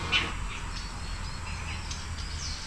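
Faint bird chirps and tweets scattered over a steady low outdoor hum, distant and sparse, in an ambisonic recording.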